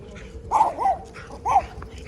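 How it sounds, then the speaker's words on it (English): Small dog guarding a residential property in a Sebring, Florida neighborhood, giving three sharp, fairly close barks in quick succession over light outdoor background noise. "That dog is trying hard."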